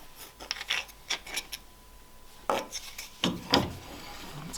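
A small tuner shaft bushing is pressed into a guitar headstock in a vise, with a hardwood block against it, giving a few short dry creaks, rubs and wooden clicks, close and fairly quiet, with no talk.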